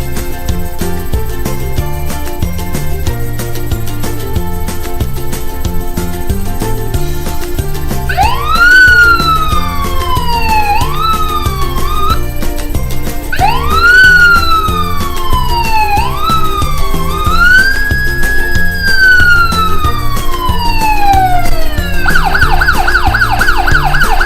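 A wailing siren rises and falls in pitch as it passes, with sweeping tones swooping down, over steady background noise.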